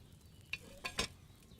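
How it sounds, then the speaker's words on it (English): A potion cauldron set over a flame in a video game gives off soft bubbling and sizzling, with a few brief stirring clinks, faint and close. "Hear that bubbling? It's boiling."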